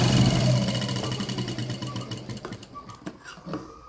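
A sewing machine runs steadily while stitching a lined blouse, its motor hum and rapid needle rhythm close and continuous, slowing and stuttering toward the end.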